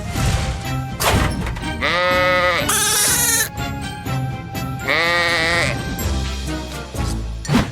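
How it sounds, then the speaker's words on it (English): Cartoon sheep in a children's farm-animal show bleat several times in wavering, high cries over background music, with a few soft thunks between the calls. "There are sheep here."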